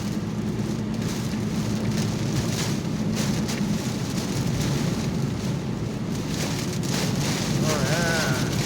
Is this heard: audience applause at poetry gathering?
no